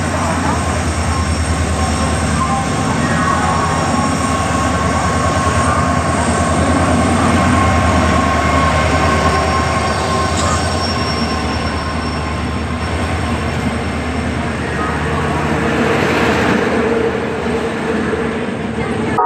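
A train at a railway station on a trip to Puri gives a continuous low rumble and mechanical hum for nearly twenty seconds, with faint high squeals and muffled voices in the background.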